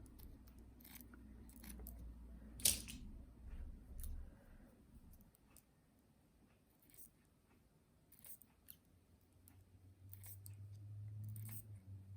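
Scissors snipping stone beads for the decoration of a crocheted trousseau bootie, heard as a few faint, scattered clicks and metallic snips over a quiet background, with one sharper snap standing out.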